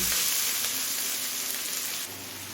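Onions frying in a karahi for chicken ghugni, a steady close, dense sizzle that holds evenly throughout and dips slightly in level near the end.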